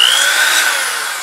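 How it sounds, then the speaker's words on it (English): A drill bit runs through a rivet hole in a steel helmet, a loud, brief high-pitched whine of metal drilling that slowly fades, with no talk. "it's never a bad idea to run that drill bit through the center of the hole again"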